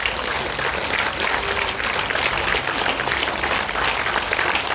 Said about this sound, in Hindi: आप दोनों हाथ से जोरदार तालियां बजाएं